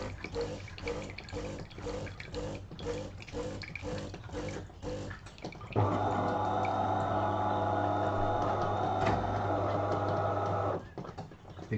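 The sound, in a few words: DeLonghi Autentica coffee machine rinsing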